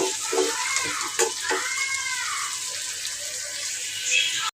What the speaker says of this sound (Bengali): ভাজি করছি।